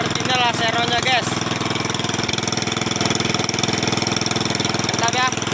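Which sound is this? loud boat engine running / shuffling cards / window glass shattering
loud boat engine running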